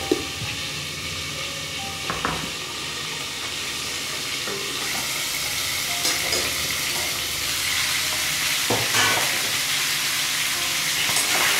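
Boal fish mixed with spice paste in a pan sizzles steadily and close, with occasional scrapes and taps of the spoon, and the hiss swells slightly toward the end.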